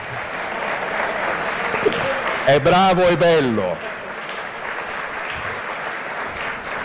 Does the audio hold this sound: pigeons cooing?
no